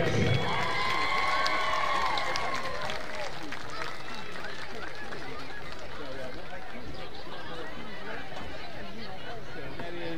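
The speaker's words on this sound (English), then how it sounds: "Please help us give these cheerleaders a warm welcome back to Clinton High School." A crowd in a high school gym or stadium applauds and cheers to welcome back returning cheerleaders at Clinton High School, a steady roar of clapping and shouting that carries on throughout.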